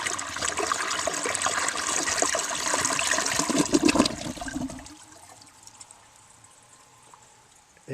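A 1966 Mansfield Simplex toilet flushes loudly with rushing, gurgling water for about five seconds, then falls to a quiet trickle as the bowl refills.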